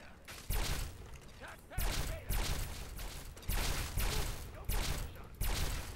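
A weapon is reloaded during slowed VATS targeting in Fallout 3, a sequence of mechanical clicks, clacks and metallic thumps spaced out at a slow, drawn-out pace.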